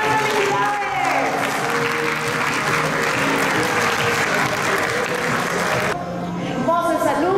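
Loud, sustained applause from an audience celebrating award winners at a channel ceremony, thick crowd clapping with cheers mixed in and background music underneath, fading slightly near the end.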